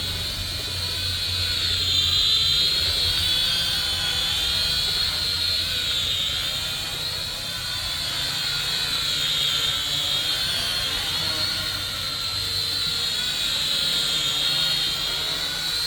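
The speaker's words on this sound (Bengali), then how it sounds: "আগে ড্রোনটা উড়াই দেখতে পাচ্ছেন ড্রোনটার সাইজটা কিন্তু বেশ বড়" An X5C camera drone with RGB lights flies at night, its rotors giving a steady, close, high-pitched whine that holds at an even level from start to finish.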